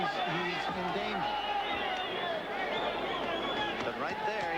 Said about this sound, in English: as you can hear some of his fans shouting in the background